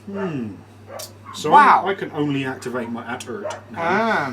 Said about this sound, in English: my dog does not like the neighbour's dog,